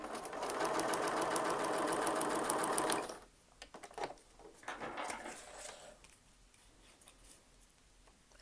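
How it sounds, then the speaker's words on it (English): A sewing machine stitches a short quilt seam, running fast and loud for about three seconds with a dense rapid whirr, then stopping, followed by quieter fabric handling and small clicks. "And I'll take it to the machine bed for some stitching."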